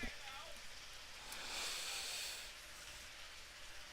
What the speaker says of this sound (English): Rain falling here, we can see it pretty well actually.